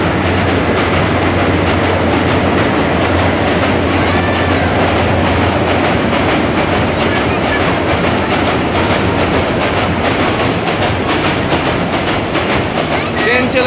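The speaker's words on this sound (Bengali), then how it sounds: "ভিউয়ার্স এই দেখেন, ট্রেন যাচ্ছে, ট্রেন চলেছে" A train crosses the Meghna river bridge close by, a loud, unbroken rumble with rhythmic clickety-clack from the wheels running throughout.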